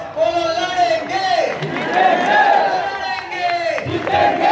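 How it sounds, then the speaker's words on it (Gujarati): Crowd at a Koli Samaj community meeting shouting a rhythmic chant in unison with some clapping, loud and close, a leader's voice calling out between the group responses. "બંને હાથ ઉપર કરો, તાળી વગાડો, બોલો લડેંગે"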